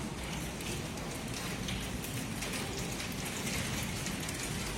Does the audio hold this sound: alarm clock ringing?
no